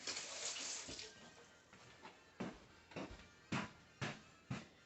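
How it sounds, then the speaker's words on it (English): Water running from a kitchen tap over garlic cloves, a steady hiss at first that breaks into a series of splashy bursts and clatters, faint and close. "Rinse, give it a good rinse."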